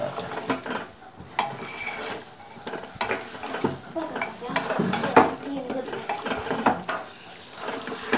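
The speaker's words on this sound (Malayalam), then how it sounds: "ചിക്കൻ ഇട്ടിട്ട് നന്നായി ഇളക്കി" Chicken being stirred in a hot pan, with steady scraping and clinking against the pan over a continuous sizzle, close and moderately loud with no talking.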